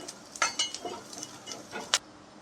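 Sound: roasting coconut in a pan on medium flame

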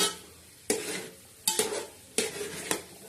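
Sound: semolina (rava) being stirred and roasted in a pan

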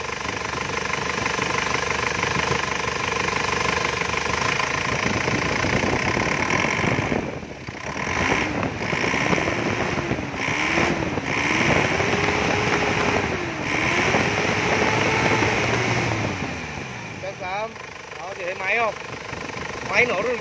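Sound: Isuzu Hi-Lander 2005 diesel engine running

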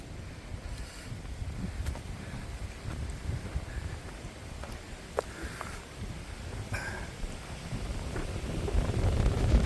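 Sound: strong wind

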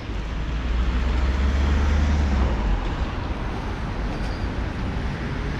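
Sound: street traffic at an intersection blocked by an old tram

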